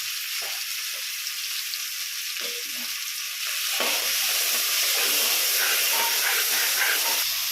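Tomatoes fry in a pan of onions for mutton biryani, a steady close-up sizzling hiss that grows louder and fuller partway through, with no talking.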